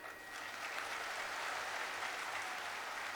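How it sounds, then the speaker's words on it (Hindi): Sustained applause from a large crowd at a Ram Katha gathering with Bageshwar Dham Maharaj, a dense, steady wash of clapping that holds at an even level throughout, with no talk over it. "एक बार हमारे ताली बजाइए।"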